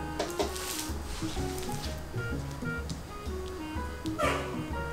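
A small dog yips and barks in short, repeated bursts, fairly close, over a steady low background.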